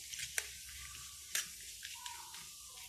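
Bay leaf and whole cumin seeds hit hot oil with a faint, steady hiss. A couple of sharp crackles stand out near the start.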